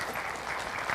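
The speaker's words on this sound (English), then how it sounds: "let's give him a big, warm round of applause" An audience breaks into a warm round of applause at a school event, a dense, steady clatter of clapping hands filling the whole moment.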